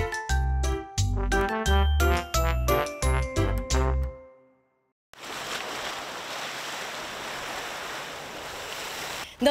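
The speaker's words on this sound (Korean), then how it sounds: "넘실 파도" Sea waves surge onto a shore in a soft, continuous broadband wash after a few seconds of piano-like musical notes and a brief silence, moderately faint and steady, with a small burst at the very end.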